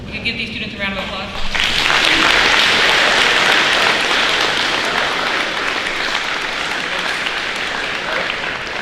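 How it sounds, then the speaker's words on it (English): Audience at a middle school academic awards ceremony bursts into steady, loud applause for students after a brief stretch of speech, with the clapping sustained until the end. "You can give these students a round of applause."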